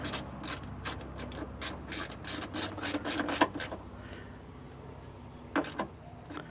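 A Koken Z-EAL 72-tooth ratchet buzzes in quick, fine clicking bursts as it works a bolt near a coolant overflow reservoir, close and crisp with short pauses and a few sharper clicks.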